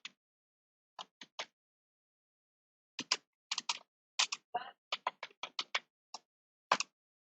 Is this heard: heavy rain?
no